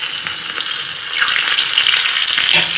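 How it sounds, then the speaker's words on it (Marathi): Green chilies, cumin and curry leaves crackle in a spoonful of hot oil in a small tempering pan, a loud, steady sizzle that stays bright and continuous throughout. "तडका पॅनमध्ये चमचाभर तेल गरम करून घ्यायचं यामध्ये सुरुवातीला हिरवी मिरची घालूयात जिरं घालूयात कढीपत्ता घालूयात"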